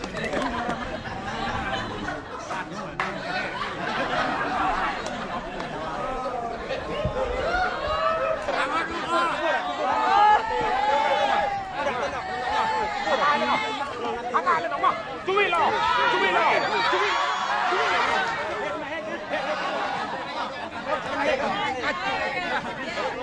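Villagers on Car Nicobar Island cheer on a sand game contest, a steady crowd din of overlapping shouts, chatter and laughter that holds throughout.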